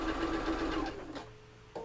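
Sewing machine stitching small quilt block pieces at a scant quarter-inch seam, a steady close mechanical whir that slows and stops partway through, followed by a brief quiet pause and a faint restart.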